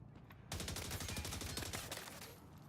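Rapid automatic gunfire from the shooter game Division Resurgence sounds in a dense, sustained burst of about two seconds, fairly quiet overall. A lower ambient hum comes just before the burst, and no speech is heard.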